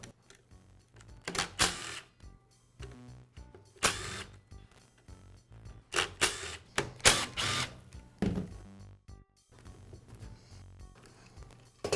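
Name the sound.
removing end cap from DeWALT circular saw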